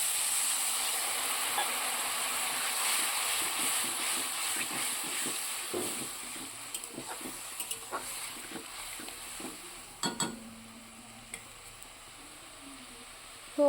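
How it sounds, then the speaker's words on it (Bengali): Water poured into a hot pan while cooking sets off a steady sizzling hiss that fades, with scattered clicks and clatter of a utensil against the pan in the latter half. "তো এর মধ্যে আমি জল দিয়ে দিচ্ছি।"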